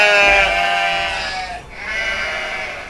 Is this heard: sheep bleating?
yes